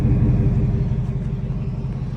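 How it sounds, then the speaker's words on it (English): Truck with the loudest Flowmaster exhaust and dual pipes on each side idles in a deep, loud, close rumble with a steady throbbing pulse, no voices over it. "I got the loudest Flowmaster that y'all can think of, and I got dual pipes on each side too"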